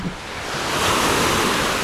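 Sea waves roll in on the beach at Alanya, a loud, broad wash of surf that swells and holds with wind rushing across the microphone.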